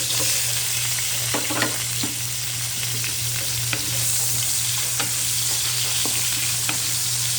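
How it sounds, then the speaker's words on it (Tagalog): Onions sauté in oil seasoned with pepper, giving a steady close sizzle and hiss with occasional louder pops and stirring scrapes, under a low constant hum. "magigisa na tayo. Meron ng paminta ang mantika. Susunod natin ang sibuyas."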